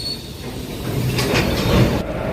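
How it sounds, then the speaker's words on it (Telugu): A goods train hauled by twin locomotives reversing slowly, a steady rumbling roll of wagons with faint wheel clatter close by, continuous throughout. "ఈ గూడ్స్ ట్రైన్ వెనకాల ఆర్నేసి ముందుకెళ్ళిపోతుంది ఏంటా అనుకున్నాను. ఎందుకే రివర్స్లో వెళ్తుంది చూడండి."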